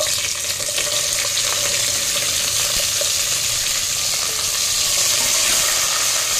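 Vegetables going one by one into a frying pan of hot oil for Bengali bhoger khichuri, a steady close sizzle with faint stirring and scraping, no talk.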